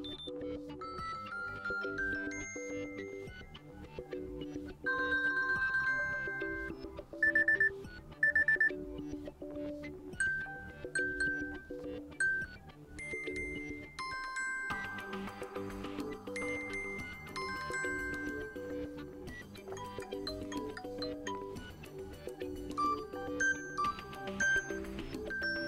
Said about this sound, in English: And right here we have a list of ringtones we can use.